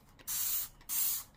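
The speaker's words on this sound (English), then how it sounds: "We got this bottle. Let's spray." Dawn Ultra Platinum Powerwash dish spray bottle squeezed fully twice, each pump giving a loud, airy hiss lasting under half a second with a brief pause between.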